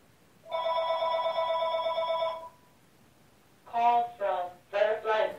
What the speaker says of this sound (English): That's my sister's phone.